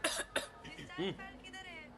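Two sharp coughs close together from a man with a cough and fever at a doctor's, followed by him speaking briefly.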